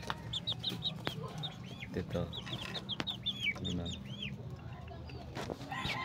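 Backyard chicken clucking in short, close, repeated calls alongside other bird chirps and rustling, with someone speaking briefly over the sounds.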